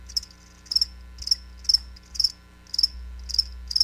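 Crickets chirp in rapid, evenly spaced bursts, about seven trills in a few seconds, clear and close against a quiet low hum.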